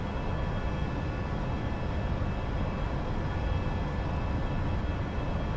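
Airplane engine in the X-Plane 11 flight simulator after a throttle increase: a steady, even drone with a constant tone that holds unchanged throughout, and no talking.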